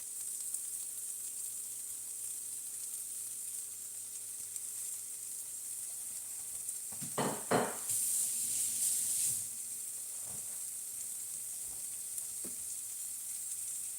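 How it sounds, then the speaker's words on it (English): Arayes fry in a pan with a steady, faint sizzle and hiss, broken midway by a short, louder burst of spattering and a few light clinks, with no voices. "Okay, I'm going to fry it this way. And later, I'm going to fry it the other way too and let this cook."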